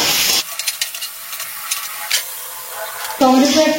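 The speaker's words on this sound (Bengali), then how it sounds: "টমেটোটা দিয়ে একটু ভেজে নিচ্ছি।" Tomato fries in a pan with salt and turmeric, loud bursts of spitting sizzle at the start and end framing a quieter stretch of low crackling and light stirring.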